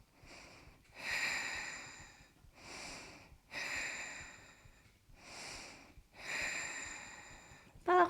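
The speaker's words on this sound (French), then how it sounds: "3 respirations profondes." Slow deep breaths taken during a yoga sequence, about four long inhale-exhale cycles spaced a couple of seconds apart, soft and close with a breathy hiss and no talking.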